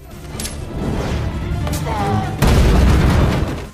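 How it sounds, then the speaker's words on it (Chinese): A grenade goes off in an action movie fight scene: one loud, close explosive boom hits sharply and rolls on under a dense, noisy battle mix. "雇佣兵队长拿起一个手雷扔到老黑脚下"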